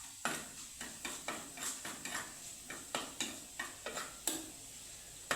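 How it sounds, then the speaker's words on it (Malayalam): Onions sautéing in a pan for rasam, with a spatula scraping and stirring in a steady rhythm of quick clicks about twice a second over a soft, faint sizzle. "ഉള്ളി വാടി വരുന്നുണ്ട്."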